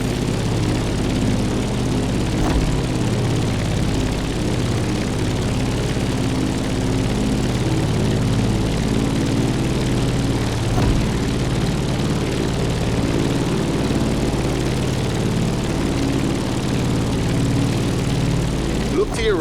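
Inside The Crew Motorfest, a propeller airplane climbs, its engine droning steadily at a low pitch throughout, with a voice speaking over it now and then.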